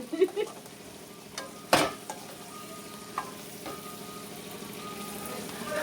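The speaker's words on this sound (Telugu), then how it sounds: "ఇప్పుడు చికెన్ అయితే బాగా కొంచెం ఫ్రై అయిపోయింది" Chicken pieces and cashews sizzle in a pan with a steady frying hiss, broken by a few sharp clatters and stirring knocks, most prominent early on, with no talking.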